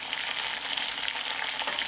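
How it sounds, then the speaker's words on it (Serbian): Browned meat and a halved onion sizzle and crackle steadily in a pot, a close, even frying hiss with no voices. "Kada se meso fino zapeklo sa svih strana, dodajem 1 glavicu crnog luka."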